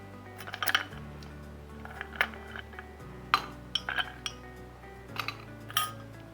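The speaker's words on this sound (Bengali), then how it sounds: "এর মধ্যে আমি ঢেলে দেবো 3 কিউব আইস, এই সাইজের কিউবস।" Three ice cubes of a fair size dropped into a drink, giving sharp glassy clinks and rattles in small clusters, close and fairly quiet over a low background hum, no talk.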